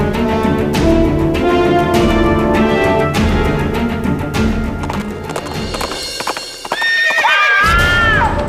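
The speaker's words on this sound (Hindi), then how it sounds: "हमने घोड़े के चलने की आवाज सुनी।" Horse hooves clip-clop in a rhythmic walk inside a haveli, loud and close amid dramatic background music, ending in a shrill neigh near the close.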